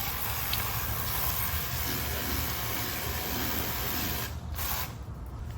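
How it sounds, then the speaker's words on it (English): A cordless combination vacuum and blower air duster runs continuously at a steady high-pitched whoosh, loud and close, with brief dips in intensity near the end as the airflow changes. "It's a vacuum and a blower all in one."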